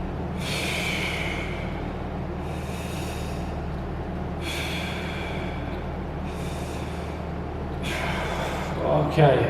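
Five slow, deep breaths taken while holding a static postural exercise with the lower spine pressed against a wall, each a loud, close, airy inhale-exhale separated by short pauses over a steady hum.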